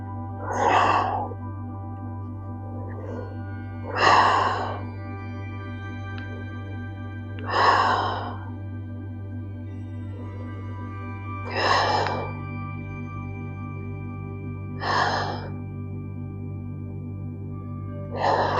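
Slow, deep breathing held through a hatha yoga pose: six long breaths, evenly spaced, each a soft airy rush that rises and fades, close and clear over a low steady hum.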